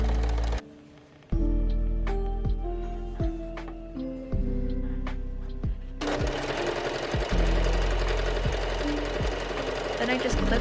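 A sewing machine stitches jacket collar pieces together, a loud, fast mechanical chatter running in bursts with brief pauses and speed changes between runs of stitching.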